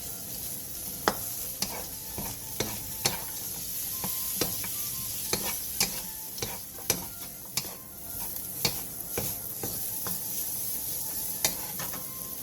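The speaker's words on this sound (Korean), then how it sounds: "팬에 기름을 두른 뒤 어묵과 다진 마늘 반 스푼을 넣고 센 불에서 1분 정도" Fish cake and minced garlic sizzle steadily in an oiled pan over high heat, with sharp scraping stirs of a spatula repeating irregularly throughout, close and fairly loud.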